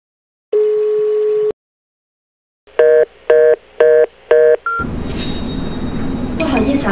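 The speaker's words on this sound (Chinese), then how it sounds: "随便拨打一个号码" A telephone number is dialed by hand. A one-second dial tone comes first, then four crisp, evenly spaced keypad tones and a short beep, followed by a rush of background noise.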